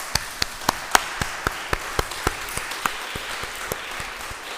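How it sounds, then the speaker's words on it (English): Scattered clapping from a church congregation at a Sunday service, a few distinct hand claps in an uneven rhythm over a quiet room, loudest early on and fading toward the end. "So a round of applause, please,"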